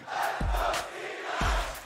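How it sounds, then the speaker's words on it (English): Esports arena crowd at the League of Legends Worlds 2022 group stage between EDG and T1, roaring in sustained cheers with two swelling surges, loud and dense with no single voice standing out. "The crowd is popping off."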